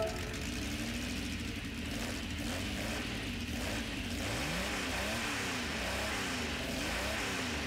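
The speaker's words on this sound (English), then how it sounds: "we can listen to the startup sound" The V12 engine of a 1966 Jaguar XJ13 race car in Gran Turismo 7 starts, idles and revs, the pitch climbing and dipping in steady sweeps, a constant mechanical rumble with no voices.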